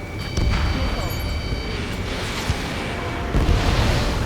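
A missile explodes during an Ace Combat 7 air battle, a loud, sustained, rumbling boom that rolls on with jet and combat noise. Radio voices come and go.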